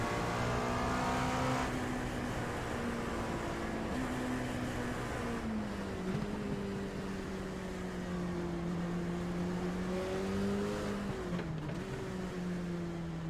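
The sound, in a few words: race car coasting in iRacing video game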